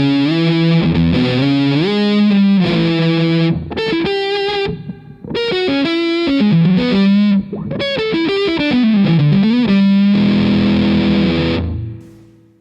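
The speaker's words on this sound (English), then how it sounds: "turning it counterclockwise, you get into this, very typical mid-scooped territory, which sounds like this" Crazy Tube Circuits Motherload Muff-style fuzz pedal in a mid-scooped voice setting, thick, saturated guitar chords and sustained notes playing a loud, continuous riff with a hollowed-out midrange, ending in a fading held chord.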